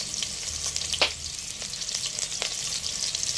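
Black pepper frying in a pot alongside onion gives a continuous close hiss of hot oil, with a few sharp crackles and pops over the steady sizzle.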